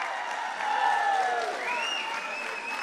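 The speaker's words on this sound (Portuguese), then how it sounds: "o Haddad merece uma salva de palmas especial por ter coordenado isso." Audience applause at a Brazilian government ceremony marking the start of construction works, a steady wash of clapping with whistle-like tones gliding over it, lasting about three seconds at moderate loudness.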